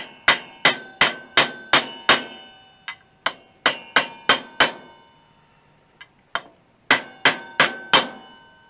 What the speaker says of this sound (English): literally just using a socket to tap it in and set it in place